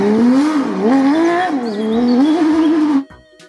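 Toy race car engine sound, a loud close electronic revving whine rising and falling in pitch for about three seconds before cutting off abruptly.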